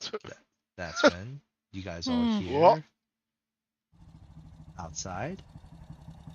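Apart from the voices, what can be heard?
about four motorcycles pulling up outside a warehouse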